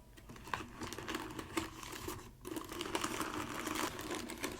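Tea packets are sorted by hand, close and soft: crinkly, papery rustles and crumpling with light tapping handling, continuous and uneven, with no talk.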